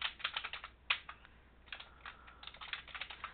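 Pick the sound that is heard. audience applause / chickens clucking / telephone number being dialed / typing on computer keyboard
typing on computer keyboard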